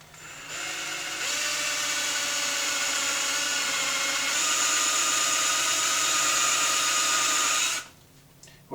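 A power drill whirs steadily at a low, even speed for several seconds, close up, drilling with a dull bit into PVC, then winds down and stops.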